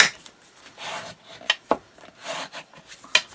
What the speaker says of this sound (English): I just want to give this a little burnish.